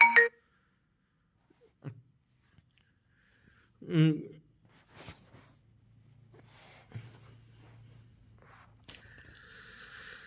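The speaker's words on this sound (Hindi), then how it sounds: "सॉरी फ़ोन आ गया था बीच में" A mobile phone ringtone chimes in short tonal bursts during a Hindi-language online lecture on library science, with quiet gaps, faint clicks and some soft background sounds between the rings.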